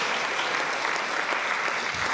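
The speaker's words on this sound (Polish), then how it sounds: "Bardzo proszę o klaski." Warm, continuous applause from a concert audience after a choral performance of songs, a dense even wash of many hands clapping at once.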